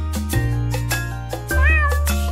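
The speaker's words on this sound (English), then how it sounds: "The cat on the fence says meow, meow, meow." A cat meows in a nursery-rhyme farm song, a cat on a fence, giving several loud, close calls in a row, with one longer wavering meow near the end, set over sustained musical backing.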